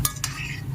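Mango fritters frying in hot oil as they are turned and stirred, giving a steady low sizzle with two short scraping clinks from the utensil near the start.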